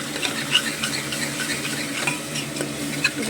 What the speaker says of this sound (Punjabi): ਹੁਣ ਅਸੀਂ ਇਹਨੂੰ ਚੰਗੀ ਤਰ੍ਹਾਂ ਮਿਕਸ ਕਰਾਂਗੇ ਪਹਿਲੇ ਮਸਾਲਿਆਂ ਨੂੰ ਪੱਕਣ ਦੇਵਾਂਗੇ